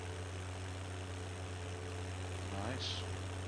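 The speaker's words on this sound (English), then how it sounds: "Now I got a tractor that's kind of a, well, it's the same model as a tractor I used to drive as a kid on our farm." Tractor in a farming sim, its engine idling with a low steady drone, fairly faint, with a brief rising whine near the end.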